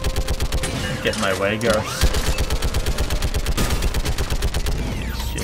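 Rapid turret gunfire from the Mass Effect 3 anti-aircraft guns sequence, a dense continuous barrage of shots with booming impacts, running under talk throughout.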